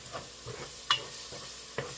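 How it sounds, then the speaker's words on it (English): Onion and garlic sizzle in a pan for a slow-cooked pomodoro sauce, a faint steady hiss with a few stirring clacks from a utensil, close and without talk. "but you hear the sizzling."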